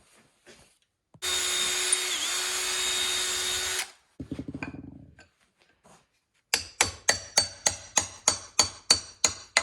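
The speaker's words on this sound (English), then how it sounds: "so let's get a different drill" A power drill whirs in one long steady burst, followed by a shorter rough run, then a series of about a dozen quick rhythmic pulses.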